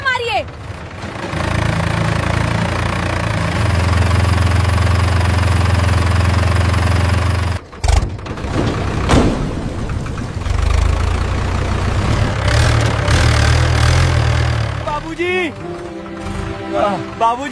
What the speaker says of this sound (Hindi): बाबूजी, ट्रैक्टर चालू हो गया।